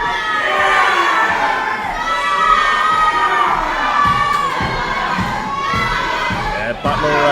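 A crowd at a championship wrestling match cheers and shouts loudly and continuously, with high, excited voices and occasional thumps from the ring beneath the din.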